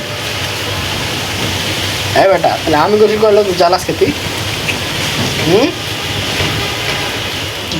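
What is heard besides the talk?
wind-driven rain and splashing water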